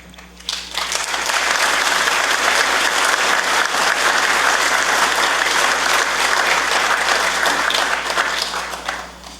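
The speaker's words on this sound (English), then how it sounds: "A fact which you have recognized merits applause for the very many things that it connotes." A crowd at a parliament's ceremonial opening breaks into sustained applause, a dense steady clapping that swells in quickly and holds loud for several seconds before starting to taper.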